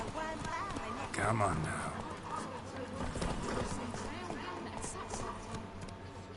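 Hooves of the horse Roach clip-clop steadily in The Witcher 3, with a rider's voice talking over the rhythmic footfalls.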